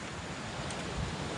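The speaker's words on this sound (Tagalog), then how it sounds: "Masyado naglalaki ang alo." Large ocean waves break at the shore beside an overnight campsite, a faint, steady wash of surf blended with wind rumble against the microphone, with no voices.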